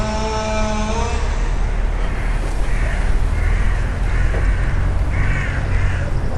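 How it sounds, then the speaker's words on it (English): A murder of crows caws outdoors in a run of harsh repeated calls spread over several seconds, heard at moderate distance over steady road traffic rumble. "a murder of crows"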